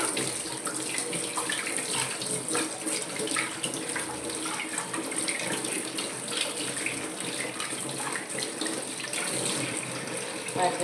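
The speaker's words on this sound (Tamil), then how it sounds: "இதை வாஷ் பண்ணிவிட்டு தண்ணி தண்ணியில் கழுவிக்கலாம்" Cassava tubers are washed under running water, a continuous tap-like gush with splashing and handling of the roots throughout, with no one talking.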